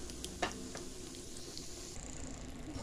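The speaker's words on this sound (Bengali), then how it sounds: "বাদামগুলো ভাজা হয়ে গেছে" Nuts fry in a pan over low heat with a steady, gentle sizzle, joined by a few light clicks and scrapes of stirring; fairly quiet and continuous, with no talking.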